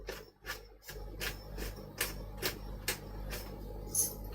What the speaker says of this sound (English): I need a better pepper grinder or I need smaller peppercorns.